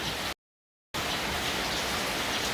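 Steady rain pouring down as a dense, even hiss, interrupted by a brief total silence before resuming at the same level.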